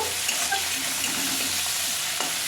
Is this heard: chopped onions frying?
yes